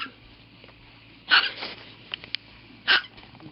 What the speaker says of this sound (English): Oh my goodness, silly hiccups.